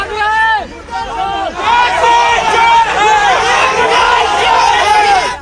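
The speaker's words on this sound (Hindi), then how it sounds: "गुस्साई भीड़ विधायक की गाड़ी को घेर कर नारेबाजी करने लगी" Angry crowd around a BJP MLA's car shouting slogans, a dense, loud roar of overlapping voices with rhythmic chanting that holds steady from start to finish.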